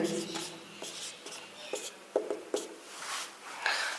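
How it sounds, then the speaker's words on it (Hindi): Marker or chalk strokes on a board while a maths solution is written out, with short scratchy bursts and taps coming in uneven rhythm at close range, quiet and with no voice. "सबसे पहले हम इसका हल लिखेंगे"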